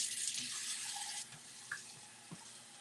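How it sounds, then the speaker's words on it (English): Water pours from a tap into a pot of brown rice, a steady close hiss that stops after about a second, followed by a few soft knocks and clinks. "we're gonna add our water."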